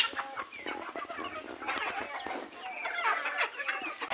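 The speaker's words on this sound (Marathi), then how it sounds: "प्युअर गावठी कोंबड्या आहेत" Chickens cluck and chatter continuously, several birds close by, with a busy overlapping rhythm of short calls.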